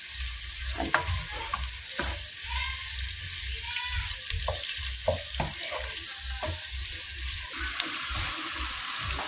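Chopped onions fry in a pan toward golden brown, a steady close sizzle with scraping stirs and occasional clinks of the spoon against the pan, with no talk.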